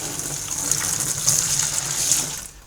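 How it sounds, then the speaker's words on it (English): Cold water runs from a tap into a jug for a home-brew batch, a steady close splashing stream that fills briefly before cutting off. "start with a jug, about 1 litre of cold water in the bottom"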